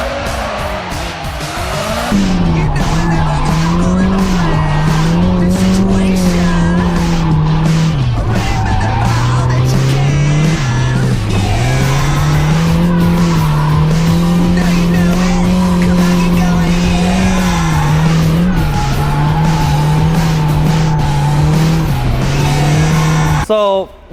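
A green Nissan 240SX S13 drifting, its engine held at high revs with sustained tire squeal and skidding, loud and continuous for the whole stretch, with a brief dip in pitch midway.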